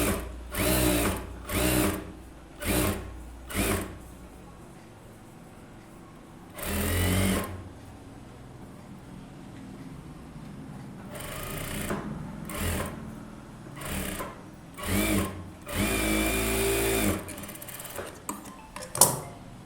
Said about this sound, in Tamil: இப்போ லைனிங்கை மட்டும் எடுத்து விட்டுட்டு ஓரத்தில் தையல் போடுறேன்